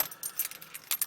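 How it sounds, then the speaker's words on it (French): A bunch of car keys on a keyring with a dealer's key fob, jangled in short bright metallic clinks and rattles at close range, fairly quiet, with no voices. "Et dans les poches, je n'ai que les clés de la voiture."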